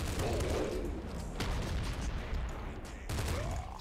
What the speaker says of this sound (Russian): Они просто ракетами стреляют.